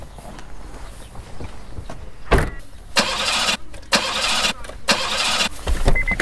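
A car engine cranks but fails to start: several loud, rough starter bursts, one short and others lasting about a second, separated by brief pauses over quiet background.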